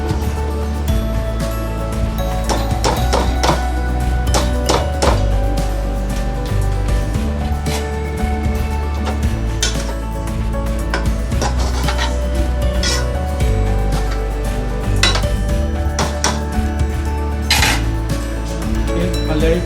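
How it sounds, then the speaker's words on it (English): Cut vegetables being stirred into chicken fried rice in a pan, a busy run of metallic scraping and clinking over a steady frying hiss, close and fairly loud, without speech. "Now I'm adding in the cut vegetables"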